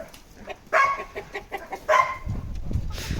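A rooster on a working farm gives two short, close clucking calls about a second apart, with scuffling and low rustling in between.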